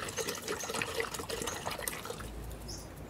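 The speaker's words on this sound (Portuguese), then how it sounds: "vão colocar nele 1 litro de água" Water poured into a container to prepare one liter for hydrating a desert rose, a faint continuous splashing trickle with small bubbling plops, quiet and close, with no talking.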